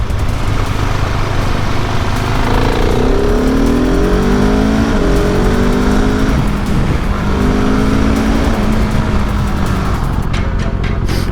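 Engine noise from a 1000 RR sport motorcycle, loud and steady over about eleven seconds, with rising and falling revs and a throaty exhaust, close by and alone without talk.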